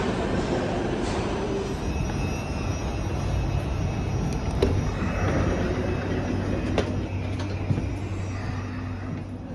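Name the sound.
Class 458 Juniper train ride interior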